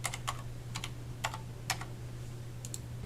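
Several quick bursts of keystrokes on a computer keyboard, clustered in short runs with pauses between, close and fairly quiet over a steady low hum, with no talking.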